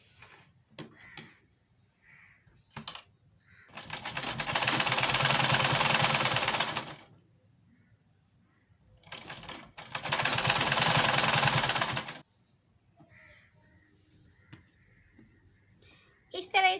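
A sewing machine stitching a brown strip onto fabric runs in two steady bursts of about three seconds each, a loud, even mechanical whir, separated by quiet pauses with faint handling noises.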